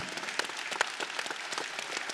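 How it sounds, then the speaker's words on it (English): Faint applause from a crowd at an esports tournament final, a steady patter of clapping heard from a distance. "Round of applause"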